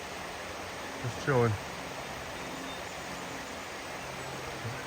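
The Ten Mile River flows under a bridge near Kent, Connecticut, giving a faint, steady, even rush; someone briefly speaks over it.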